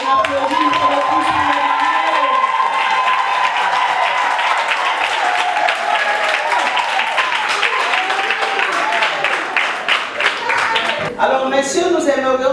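A crowd at a civil wedding ceremony claps and applauds steadily for about eleven seconds before a voice begins speaking.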